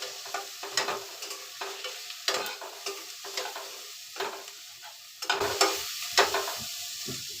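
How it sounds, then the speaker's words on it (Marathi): A spoon stirs spice masala through pavta rice (fresh field beans) in a pan: a steady run of close scraping, clinking strokes with a soft sizzle underneath, no voices. "मसाला मिक्स करून घेतला."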